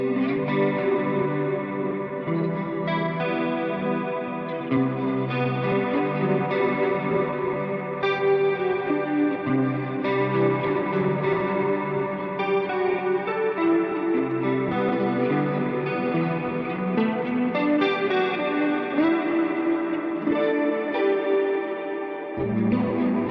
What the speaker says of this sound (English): we replace the distortion pedal with a chorus pedal